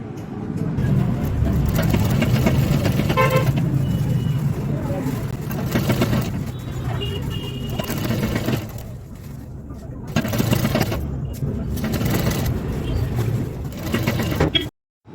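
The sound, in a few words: sewing machine stitching a tulip salwar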